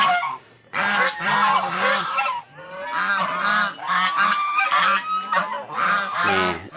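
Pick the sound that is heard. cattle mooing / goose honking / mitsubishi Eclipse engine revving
goose honking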